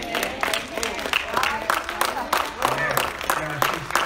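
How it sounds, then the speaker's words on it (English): Congregation clapping hands in praise at a church gathering, with sharp, fairly rhythmic claps and cheers mixed with voices calling out and talk over the top. "Clap your hands and give God a praise."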